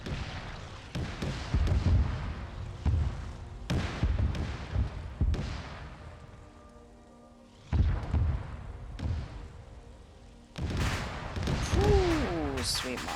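Battleship main guns firing in a naval combat game mission: several heavy, deep blasts at irregular intervals with rumbling decay between them, loud and close, while someone comments over the action.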